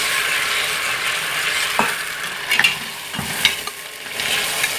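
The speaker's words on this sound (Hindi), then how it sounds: "चिकन को अच्छी तरह भून लेंगे" Chicken fries in a pan with garlic, a steady close sizzle broken by a few scraping stirs of a spoon, with no talking.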